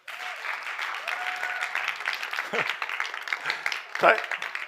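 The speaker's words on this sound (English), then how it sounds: "Let's all please give him a huge round of applause and welcome to the stage." Audience at a COP28 climate conference event applauds a speaker coming to the stage, sustained clapping from a crowd with voices talking over it.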